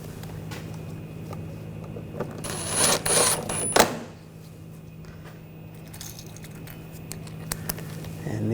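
Bolts are snugged down on the front bumper impact absorber of a 2014-2020 Nissan Rogue, with one brief burst of ratcheting whir and clicks in the middle, close, surrounded by quiet shop hum.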